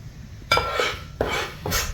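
Three hundred grams of minced keema drops into a handi for a seekh kabab gravy: two sharp utensil clanks against the pot, each followed by a brief rush of sizzle and scraping.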